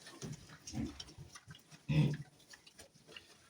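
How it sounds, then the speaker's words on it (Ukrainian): A pig weighing about 150 kg grunts several times in short bursts, one louder grunt near the middle, with faint rustling around it. "свинка встала наша"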